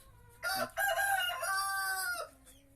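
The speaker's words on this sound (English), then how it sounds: "a broody chicken. She is very, very broody" A broody hen lets out a drawn-out, strained vocal call, a near, fairly clear few seconds of squawking clucks with no talk, sitting on her eggs in a nesting box.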